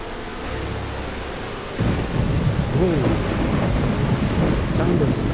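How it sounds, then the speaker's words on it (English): A thunderstorm in the F1 Challenge racing game, set in a 1968 season, brings a deep rumble of thunder and a steady wash of rain, loud and continuous with engine tones beneath. "Oh, thunderstorm."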